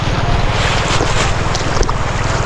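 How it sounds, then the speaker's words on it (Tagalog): A motorcycle engine runs close by with a loud, steady low rumble, heavy wind noise over the microphone and no pause throughout. "yung tinig ng motor"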